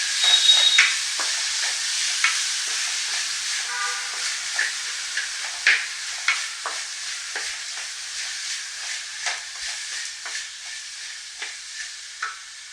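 Two tomatoes frying in oil for chicken green masala, a steady bright sizzle and hiss with scattered crackles and soft stirring taps, close and continuous.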